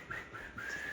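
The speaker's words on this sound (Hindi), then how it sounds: "तू सीटी बजा सकता है?" A person whistles a short, clear tune, several brief rising notes in quick succession, close and moderately loud with no talk over it.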